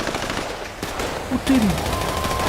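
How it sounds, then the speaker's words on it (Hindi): Gunfire from GTA 5 gameplay during an attack on a mansion compound, with bursts of shots and blasts over a dense, continuous battle din at steady loudness. "चारों तरफ से गोलियां चलने की, चीजों के ब्लास्ट होने की, चिल्लाने की, लोगों सबकी आवाजें आ रही है"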